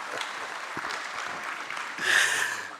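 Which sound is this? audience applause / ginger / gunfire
audience applause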